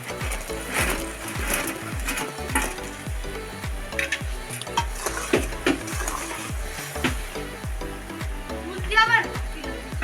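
Fried gulab jamuns sit in sugar syrup in a pan, giving a steady bubbling sizzle under a regular series of soft knocks and clatters from a spoon or lid, with faint speech in the background.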